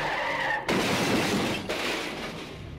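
A cartoon killer car skids out of control and mounts the sidewalk, a loud broadband screech with a sharp crashing burst partway through, then a second impact and lingering noisy rumble.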